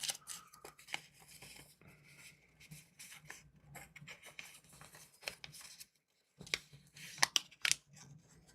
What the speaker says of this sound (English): Fold it on the line there. We'll rip this one,